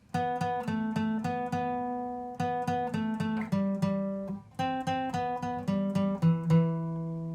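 A riff on acoustic guitar, plucked single notes and picked patterns ringing clearly in a steady repeating phrase, played alone and close with no voices.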